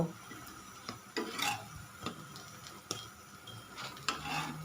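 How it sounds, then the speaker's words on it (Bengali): Pumpkin rolls fry in a pan over medium heat, a faint sizzle broken by several scraping, clattering turns of a spatula against the pan, at irregular intervals. "মিডিয়াম আঁচে উল্টিয়ে পাল্টিয়ে ভেজে নিব।"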